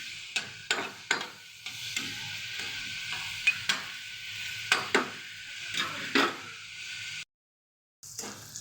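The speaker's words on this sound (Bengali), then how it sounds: "এখন ভাজা ভাজা করে সম্পূর্ণ মশলা আছে, যা যা মশলা সব কিছু মিশিয়ে একটু কষিয়ে নেব।" Onions and spices fry in a pan with a steady sizzle while a spatula scrapes and knocks against the metal in regular strokes. Sound drops out briefly near the end, then the sizzling resumes.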